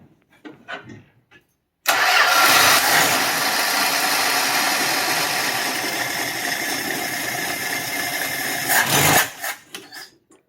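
A 1966 Dodge Dart engine with a cheap single-barrel carburetor cranks and catches, running loudly and steadily for about seven seconds before cutting off abruptly, with brief clicks and movement before and after.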